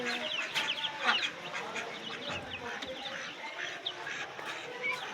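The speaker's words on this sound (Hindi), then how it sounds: "हमारे पास एक मुर्गा है जो हमारे पास ही पला बड़ा है" A rooster and chickens cluck and cackle continuously close by, with overlapping bird calls and a faint voice in the background.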